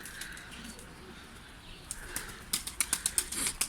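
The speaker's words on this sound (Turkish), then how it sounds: "Bu arada yüksekten çok kuş gidiyor arkadaşlar" Flock of pigeons flying high overhead, their wings beating in a quick rhythmic burst of flaps that grows louder and nearer toward the end, with no talking.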